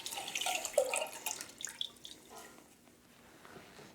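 Water dripping and trickling as a stain-soaked rag is wrung out over a container, a close splashy burst that tapers into faint drips.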